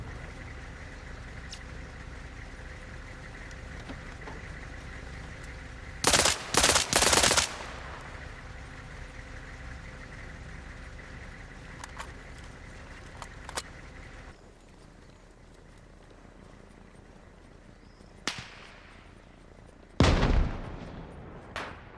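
Gunfire in a mil-sim video game: a few short, loud bursts of automatic fire and single sharp shots over steady background engine rumble and ambience, with a quieter stretch between, no talk.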